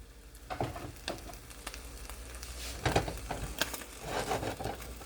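Tortilla crisping in a non-stick pan over low heat, a soft continuous sizzle with faint scraping and tapping of a spatula, quiet and close.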